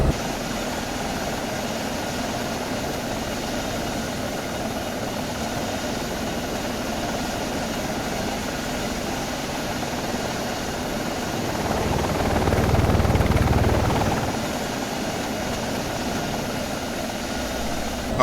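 A Bell-style light helicopter, the 300 CBi, flying in the X-Plane 11 flight simulator, its steady rotor and engine drone continuous and close, swelling briefly louder partway through, with no talking.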